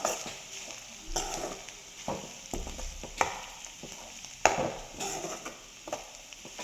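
Carrots and beans cooked with masala in a pan, sizzling continuously while a spoon stirs and scrapes the pan in repeated strokes, heard up close without speech.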